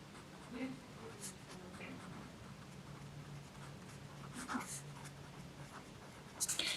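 A pen writes an answer in a school notebook for a Class 5 English lesson, giving quiet, intermittent scratchy strokes close by, with soft faint talking underneath and a brief louder rustle at the end.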